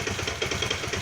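Kawasaki Vulcan 800 motorcycle idling at lowered revs, close up, a steady low throbbing engine with rapid mechanical clatter, alone.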